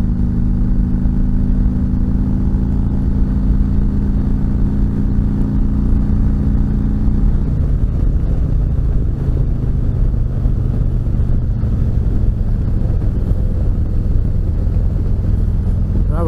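Motorcycle cruising in sixth gear, a loud continuous engine drone with wind rush that shifts pitch midway, heard close from the rider's position with no talk.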